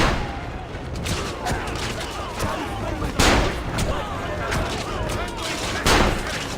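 Gunfire in the game Assassin's Creed Revelations, a string of sharp bursts amid a dense, noisy battle din, with two heavier shots standing out and background music or effects underneath.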